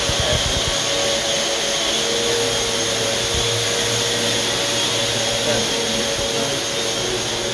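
A floor sander fitted with 36-grit paper runs across an oak hardwood floor, giving a loud, steady, unbroken roar from start to finish.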